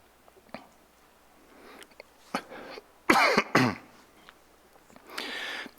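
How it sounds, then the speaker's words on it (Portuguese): A cough close to the microphone during a church service sermon, two sharp loud bursts in quick succession, with a softer throat-clearing rasp at the end. "não tossir aqui ao microfone, porque é muito ruim para o áudio depois"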